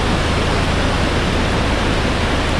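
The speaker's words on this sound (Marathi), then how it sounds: "हे सगळीकडून येतं ना ते पाणी." Water flowing in from all sides near a grandmother's house with a broken roof, a steady loud broadband rush like a stream or small waterfall, unbroken and close, with no talking.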